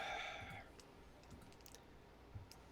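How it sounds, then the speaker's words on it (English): Soft, faint clicks and light key taps from a computer sound at a few scattered moments, following a brief tonal beep at the start. "it sounds like you're clicking to pull up the article, Eric."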